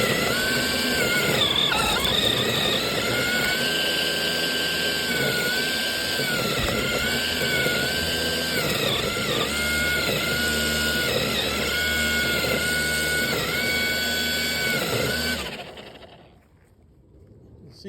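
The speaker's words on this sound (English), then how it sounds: "the head of the trimmer is picking up a lot of material, but just keep it spinning" Gas string trimmer cutting dense, overhead-tall weeds with sweeping scythe-like passes, a loud continuous engine whine that rises and dips as the head chews through material, then cuts off abruptly near the end.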